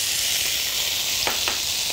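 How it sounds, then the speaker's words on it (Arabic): Lamb chops frying in a pan make a loud, close, continuous hiss, with two brief scraping touches near the end. "نحمر الوش الثاني، واحنا بنحمر الوش الثاني هنحط البصل"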